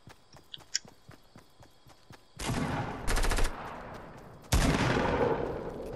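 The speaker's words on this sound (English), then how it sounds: "Who is shooting at me?" Soft, rhythmic footsteps in a shooter video game give way to loud, close bursts of automatic gunfire, with three separate volleys in quick succession.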